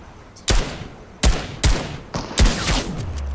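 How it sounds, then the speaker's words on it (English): Video game gunfire: four or five sharp, loud shots spaced irregularly over a few seconds, each with a short booming tail, alone without talk. "Tims sometimes have trouble locating snipes, so they'll have to shoot around a bit before figuring out where it came from"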